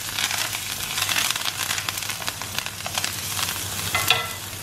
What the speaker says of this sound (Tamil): ஸோ இது நல்லா வந்து இதாகட்டும், ஃப்ரை ஆகட்டும்